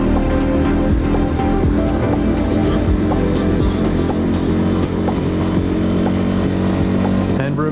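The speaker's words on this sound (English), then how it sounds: "No adventure ride is complete without a wheelie. At least not when there's a DR650 involved." A Suzuki DR650 adventure motorcycle pops a wheelie on a scenic trail ride, its engine droning loud and close with a steady, throaty roar that holds throughout.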